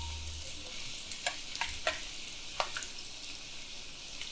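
Oil sizzles softly and steadily as ingredients fry to a light brown, with a few sharp stirring clicks of a spoon against the pan, close and alone.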